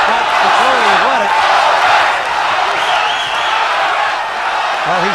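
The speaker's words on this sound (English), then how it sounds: "They're chanting Odum, Odum" Boxing arena crowd roaring steadily through a Donovan 'Razor' Ruddock vs Kimmuel Odum bout, a dense sustained wall of voices with rhythmic chanting for the underdog, loud and continuous, with a commentator's voice intermittently over it.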